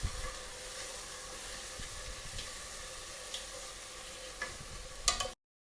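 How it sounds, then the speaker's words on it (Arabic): Chicken pieces and onion sautéing in a pot for red chicken kabsa give off a steady close sizzle and hiss, with occasional scraping stirs and a sharper clatter near the end before it cuts off. "احمسه شوي مع البصل"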